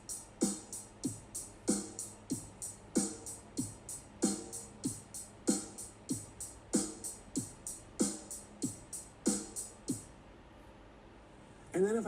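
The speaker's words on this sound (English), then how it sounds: "So a groove without ghost notes would sound like this." A drum kit plays a straight rock groove with no ghost notes, steady hi-hat strokes over regular kick and snare hits, the pattern repeating evenly for about ten seconds before stopping.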